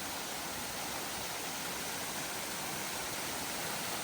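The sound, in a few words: small winter waterfall in Cape Breton, Nova Scotia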